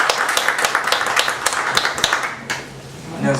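A small audience claps steadily for a few seconds at a business seminar introduction, sharp hand claps close by, then the applause fades out.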